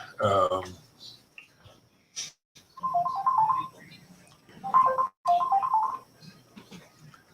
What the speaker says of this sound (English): And shut that phone off.